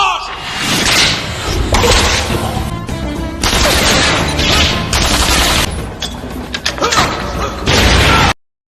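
Loud, sustained gunfire from a shootout in an action film, with rapid volleys, whooshes and thuds piling up for several seconds before cutting off abruptly.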